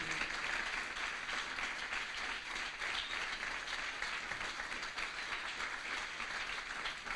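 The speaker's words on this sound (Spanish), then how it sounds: "Dele un aplauso al Señor" A church congregation applauds loudly and steadily, a thick continuous wash of many hands clapping together that holds for the whole stretch without a break.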